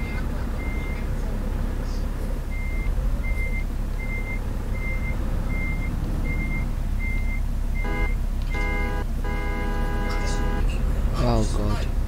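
A truck's reversing alarm in Euro Truck Simulator 2 online: evenly spaced beeps repeat steadily over a constant engine rumble, with other horn-like tones and a person talking over it.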